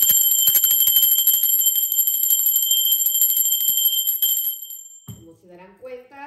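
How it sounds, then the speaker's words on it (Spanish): A ritual bell rings with bright, sustained metallic tones that shimmer for several seconds, loud and close, then fade out as a voice speaks. "en Mursi no le afecta para nada la campana"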